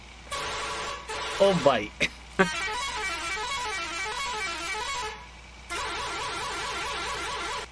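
A mixed horn fitted to a modified HMT 5911 tractor in Farming Simulator 19 blares in long, loud, warbling blasts with a short pause between, while a man calls out briefly over it.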